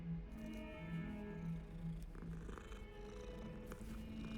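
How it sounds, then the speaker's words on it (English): A cat in the Hogwarts Legacy video game purrs steadily while being petted, a continuous low rumbling purr heard close and alone for several seconds. "Gotta pet the cat."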